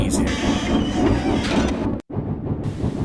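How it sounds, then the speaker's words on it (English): Steam locomotive labouring up a hill, with a steady loud rumble and repeated rhythmic chuffing and clatter, a brief dropout near the end, then the chugging resumes. "So James went faster and faster, and they were soon halfway up the hill"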